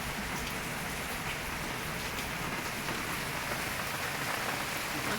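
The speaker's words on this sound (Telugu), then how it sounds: "వర్షం అయితే పడుతుంది" Rain falls steadily on a surface, a dense, even patter that holds at the same level from start to finish.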